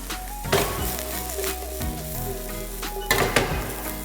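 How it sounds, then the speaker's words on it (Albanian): Sliced celery and mushrooms sizzle in hot fat in a pan, with a steady crackle, occasional stirring scrapes and a couple of sharper clinks of a utensil against the pan. "selinoja tu është gati e skuqur, dhe hedhim dhe kërpudhën"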